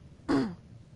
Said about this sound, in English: I keep on, like, clearing my throat.